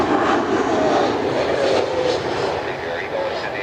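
A United Airlines jet airliner passes at Cleveland Hopkins airport, a steady broad engine roar that stays loud throughout and eases slightly toward the end.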